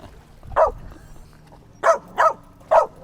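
Dogs barking: four sharp, mid-pitched barks, one early and then three in fairly quick succession, heard at moderate distance over a low background rumble.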